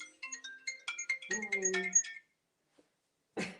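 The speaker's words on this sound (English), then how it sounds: "When you get a phone call when in the middle of your live." A phone rings with an incoming call in a home kitchen during a ratatouille cooking session, a quick series of bright electronic tones lasting about two seconds, followed by silence and a short trailing sound.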